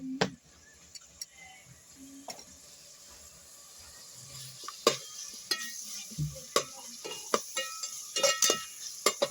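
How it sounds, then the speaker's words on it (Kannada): A dosa being cooked with oil on a home stove, with a soft sizzle and a string of sharp clicks and scrapes from the utensil and pan that grow busier toward the end. "ಈ ಒಲಿ ಮೇಲೆ ಮಾಡ್ತೀನಿ ನೋಡಿ ನಾನು ದೋಸೆ"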